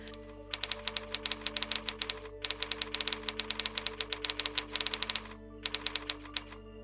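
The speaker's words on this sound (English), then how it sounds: "now I'm trying to type without looking at them" Rapid keystrokes clatter on a keyboard in dense bursts with brief pauses between them, close and fairly quiet over a steady low electrical hum, no voices.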